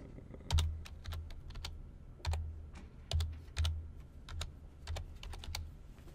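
A password typed on a computer keyboard, a close run of crisp, uneven keystrokes with short pauses over a low background hum.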